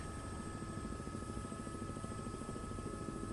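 An H125 helicopter in Microsoft Flight Simulator 2024 drones steadily with a constant rotor and turbine whine, a thick unbroken engine roar with high tonal lines, heard alone at moderate level.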